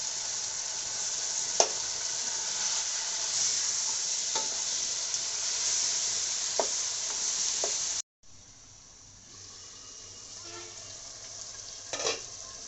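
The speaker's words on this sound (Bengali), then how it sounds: "আমার মাছের মাথাটা কষানো হয়ে গেছে" A katla fish head sizzles steadily in hot oil in a wok, with occasional scraping and stirring sounds; the frying drops quieter partway through.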